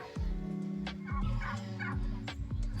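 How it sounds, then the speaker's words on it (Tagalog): Geese honk at a farm in Calamba, Laguna, giving several loud, nasal calls in quick succession, close by, with no talking. "Ay, may gansa."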